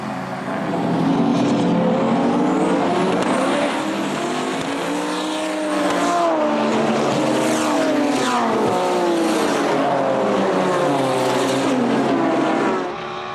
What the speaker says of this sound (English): Some furious sounding M-Power as they started the race